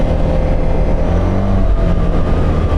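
A Can-Am Outlander 1000R MAX XTP ATV with a 999cc V-twin engine accelerates hard, a loud, close, continuous engine roar with a rising tone and wind rush, and no talk.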